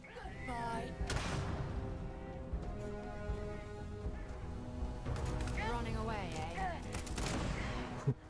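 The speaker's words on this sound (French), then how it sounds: "Oh, explosion." Explosions and bursts of gunfire from the space video game Starfield ring out repeatedly across the span, loud and dense, with a voice talking over the game sound throughout.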